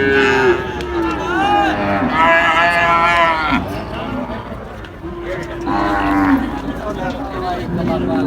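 Cattle at a livestock market where calves, cows and buffaloes are traded, with loud drawn-out moos repeating from nearby animals over a background of crowd murmur and people talking.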